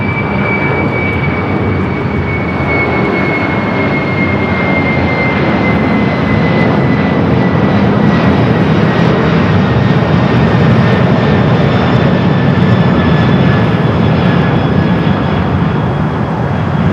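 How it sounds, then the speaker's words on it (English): A Boeing 747-400 converted freighter takes off from Los Angeles airport, its jet engines a loud, steady broadband roar that holds strong throughout, with a faint high whine riding on top. "Western Global Airlines 9781 taking off to Sacramento on the 747-400 converted freighter."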